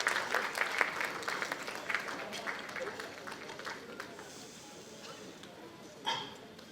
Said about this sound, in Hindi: उनके लिए भी जोरदार तालियां हो जाएं।